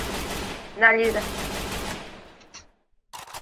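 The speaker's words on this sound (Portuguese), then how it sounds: "Dá os tiros." Rapid gunfire from the Free Fire battle royale game, a dense burst of shots with a sharp crackling stretch, heard under a player's excited talk before a short pause and a final quick burst.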